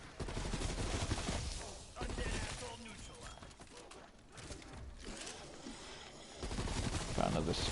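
Gunfire in Black Ops Cold War Zombies, dense and repeated bursts and single shots crackling throughout at a fairly low level, with heavier volleys toward the end.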